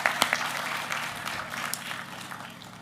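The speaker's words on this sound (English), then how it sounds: "Give yourselves a round of applause, please." Brief, fairly faint clapping from an audience at a university hall of fame gala, a few sharp claps at first then a softer patter over a few seconds.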